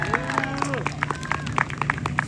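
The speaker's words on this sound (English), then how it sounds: "So please give a round of applause." Scattered, modest applause for volunteers at an outdoor community film festival under the stars in Regent Park, Toronto, with a handful of separate claps and crowd murmur beneath them.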